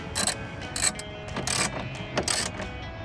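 A ratchet with a 10mm socket tightens grille bolts on a Ford F-150, giving several short bursts of quick clicking separated by brief pauses, close and fairly quiet.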